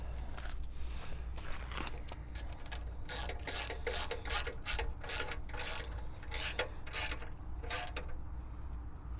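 A socket ratchet on an extension tightens a pin bolt on a log splitter during a log lifter kit install, giving a steady run of close, sharp repeated clicks in quick bursts.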